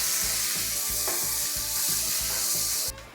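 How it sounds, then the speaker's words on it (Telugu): Onions, green chillies, coriander and fresh mint fry in a pan with a loud, steady sizzle over a rhythmic low thumping that pulses throughout, the sizzle cutting off abruptly just before the end. "ఇప్పుడు ఇందులో కొత్తిమీర, ఫ్రెష్ పుదీనా వేసి మంచిగా వేగనివ్వాలి"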